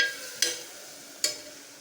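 Tomatoes go into a hot pan for goat head curry, giving two brief bright hits at even spacing over a low, steady sizzle, close by with no voices.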